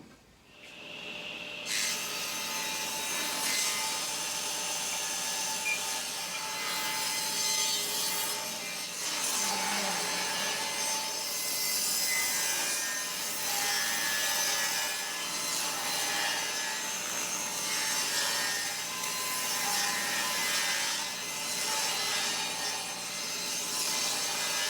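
A saw rips wooden strips for a garden obelisk into 1-inch widths with a loud, steady, whining cut that runs nearly without a break, close up, with faint shifts in pitch as the wood feeds through.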